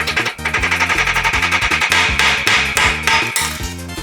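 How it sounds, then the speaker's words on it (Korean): Hammer strikes a toughened glass drop in a strength test, a rapid run of loud, sharp metallic-glassy clinks repeating steadily at close range, with no talk. "망치 테스트."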